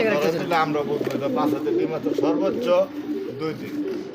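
Rajshahi Giribaz pigeons coo close by in soft, repeated throaty calls while someone talks over them continuously.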